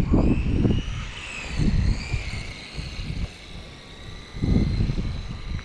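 A Team Associated RC truck with a 3652 3500 kv brushless motor on 2S runs an easy lap, its high electric whine rising and falling in waves, with low rumbling bursts as it passes near and pulls away.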